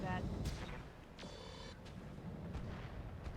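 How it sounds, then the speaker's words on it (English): Mortar fire from battle armor in the RogueTech game, muffled booming impacts and rumbling battle noise at low level, with voices talking over the action. "Hey, we got a hit with the mortar"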